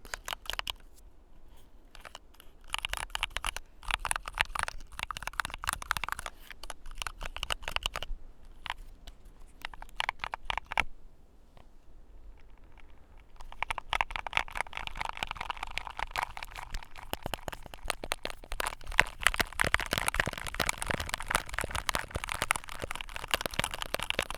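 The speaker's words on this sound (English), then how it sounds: "I want to do some clickety clacking sounds with my keyboard, with some puzzles" Keyboard keys and puzzle cubes being handled make dense, rapid clicking and clacking close up, patchy at first, with a short near-silent pause before a busier, steadier stretch of clicks.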